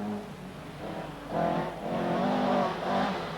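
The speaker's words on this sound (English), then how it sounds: "Number 15, Glyn Jones in his Opel Manta" An Opel Manta rally car driven by Glyn Jones on a stage of the 1985 Lombard RAC Rally roars past close by, its engine revving and surging through a few throttle changes, loud and without talk.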